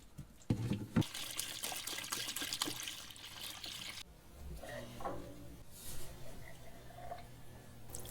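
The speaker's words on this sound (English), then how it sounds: "to pump it up and let it continually recirculate and see if that will take care of our rust situation for us" A small pump recirculates Evapo-Rust liquid during restoration of carnival ride parts, giving a faint steady trickle and splashing with a few knocks and clunks early on.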